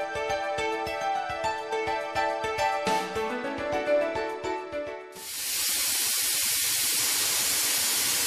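An air-driven spindle spinning at 40,000 RPM deep-rib end milling pre-hardened HRC 40 steel with a tapered end mill: a steady loud hiss of air and cutting noise that begins abruptly after a stretch of tonal music and holds continuously.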